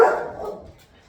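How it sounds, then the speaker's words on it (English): A dog's bark rings out once, loud and near, then fades over about half a second into a quiet room. "And there goes the dogs."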